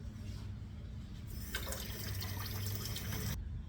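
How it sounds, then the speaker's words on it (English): Tap water runs onto a bowl being washed, starting softly and swelling into a steady, close splash and rush for about two seconds before cutting off, over a low background hum. "I have to wash the bowl."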